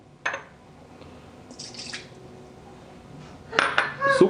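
Soy sauce being mixed in a pot for pork and chicken adobo, heard as a few sharp clinks of a utensil against the pot, one near the start and a louder cluster at the end, with soft scraping between.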